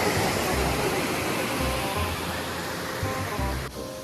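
A waterfall high on the Thirumoorthy hills gives a steady, dense roar of falling water, close and loud throughout, with a brief dip near the end and no talk.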